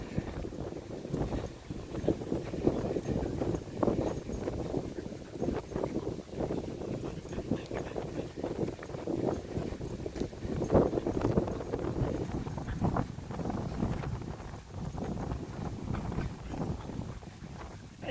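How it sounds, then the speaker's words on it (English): Strong wind blows steadily across the microphone outdoors, a continuous rough low buffeting roar with gusty surges and no clear pauses. "Wind's quite strong, as you can tell."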